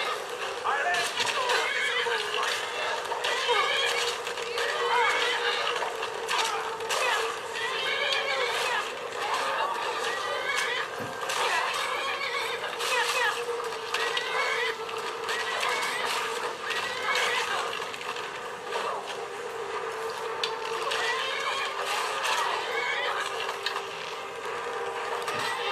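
A video game horse neighs and whinnies repeatedly, with hoof clip-clop and game sounds steady throughout, heard on a Lenovo ThinkPad X230 laptop.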